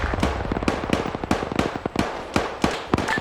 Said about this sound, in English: we've got also a Dishka somewhere around here firing